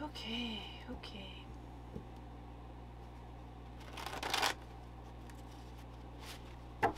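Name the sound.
shuffling cards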